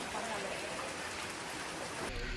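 Heavy monsoon rain falls in Mumbai, a dense, steady hiss of downpour on surfaces that fills the whole stretch without pause and sounds close and loud.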